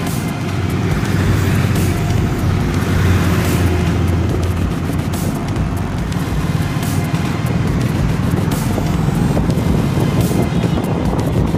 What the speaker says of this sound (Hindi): तो गाइस यहाँ का ट्रैफिक देखो